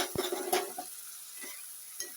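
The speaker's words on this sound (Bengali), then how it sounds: "ভেজে নেব মশলাটা" Spice mix of coriander and chili powder with tomato frying in a pan for a small-fish curry: a soft, brief sizzle with a couple of quick stirring scrapes and light clinks, close and quiet, no voices.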